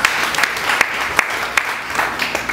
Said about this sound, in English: Let's give God a clap of praise.